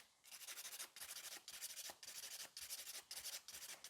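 A nail file rubs back and forth across fingernails during a salon manicure for a crystal-studded set, close and steady, in repeated short bursts of rasping strokes with brief pauses between them.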